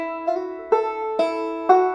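Two-finger banjo in thumb-lead style plays the opening two measures of "Say Darling Say", four bright plucked chords struck in steady rhythm, each ringing out clearly and alone.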